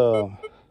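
A Minelab Vanquish 540 metal detector gives a two-tone signal: a short electronic tone sounds loudly for a fraction of a second, then fades, followed by a faint second blip.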